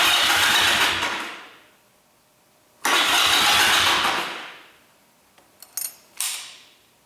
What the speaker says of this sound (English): push the start button a couple of times in order to drain any additional oil out of the bike.